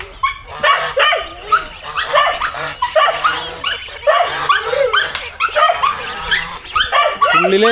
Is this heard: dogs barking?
yes